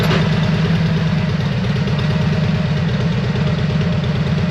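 A Harley motorcycle idles steadily through slash-down mufflers, a close, even low-pitched throb with a lumpy pulsing beat and no other sounds.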